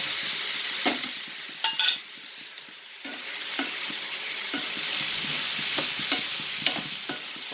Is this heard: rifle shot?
no